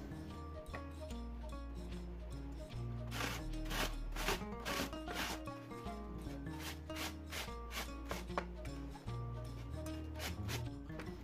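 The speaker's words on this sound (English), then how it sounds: "Gonna grate this for the salad." Apples, mango and carrots being grated by hand for a fruit and vegetable salad, with rhythmic rasping strokes repeating steadily over steady background music.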